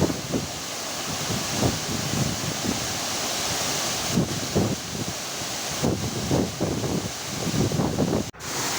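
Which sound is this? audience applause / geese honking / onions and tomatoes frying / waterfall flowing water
waterfall flowing water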